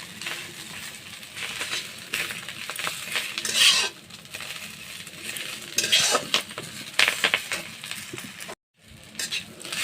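Khar kochu (taro) leaves fry in a pan with a soft, continuous sizzle, punctuated by repeated metallic scrapes and clinks of a spatula stirring, then a brief silence before the sizzling resumes.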